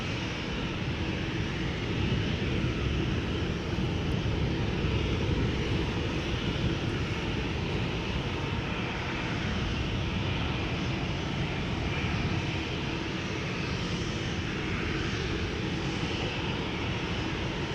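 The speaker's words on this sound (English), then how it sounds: "This is KLM flight 1185, destination Bergen, 737-800" A KLM Boeing 737-800 jet bound for Bergen roars down the runway at Schiphol Airport, a loud, sustained, broadband engine rumble that holds steady throughout with no voices.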